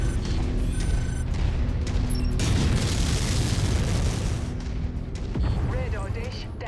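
Artillery cannons get destroyed in the mech combat game MechWarrior 5, with a long, loud, rumbling explosion roar that swells and fades under continuous mechanical noise and bursts of game speech.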